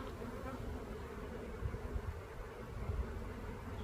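Honeybees fly around an opened, somewhat restless hive, making a steady, close, dense buzzing hum with occasional louder passes near the microphone and no speech.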